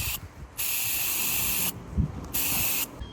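A spray gun lays a second coat of paint on a custom bike in three long, loud hissing bursts separated by short pauses, close to the listener, with no talking.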